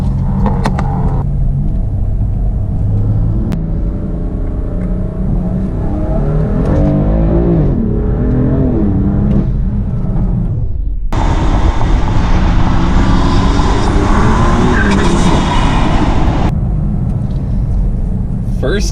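A tuned BMW M4/M3 with the S55 twin-turbo engine and MHD tune revs hard with antilag crackles and pops, loud and close, engine sweeping up and down through first gear with brief lulls and people talking.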